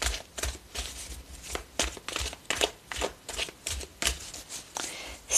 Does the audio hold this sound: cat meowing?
no